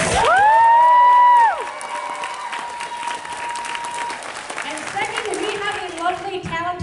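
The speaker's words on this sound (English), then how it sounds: "can we give a big, big round of applause to our staff and volunteers?" A convention crowd at anime opening ceremonies in Texas bursts into loud, dense applause and cheering for staff and volunteers. The ovation continues steadily throughout, with a voice ringing out loudly at the very start.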